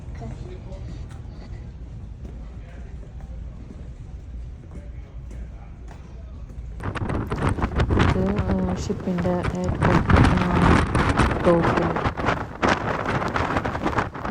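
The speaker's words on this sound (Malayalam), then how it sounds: "ഫുൾ ടൈം കാറ്റ് തന്നെയാണ്" Wind roars across a ferry's deck at sea between Liverpool and Belfast, buffeting the microphone and growing much louder midway, while people talk over the gusts.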